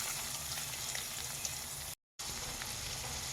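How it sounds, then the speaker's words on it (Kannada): Finely chopped medium onions sizzling in hot oil, a soft continuous crackle at low level, broken by a brief moment of silence; no speech. "ಈರುಳ್ಳಿ ಚೆನ್ನಾಗಿ ಫ್ರೈ ಮಾಡ್ಕೋಬೇಕು"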